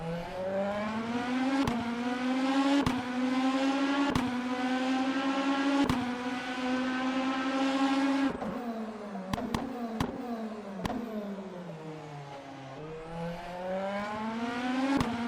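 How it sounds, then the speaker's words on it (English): A Genesis hypercar with a naturally aspirated V8 in Le Mans Ultimate roars past from outside, its engine note climbing steadily through gears with sharp upshift breaks, then dipping and rising again, heard alone at moderate volume. "Sounds powerful, sounds strong, sounds like a naturally aspirated V8."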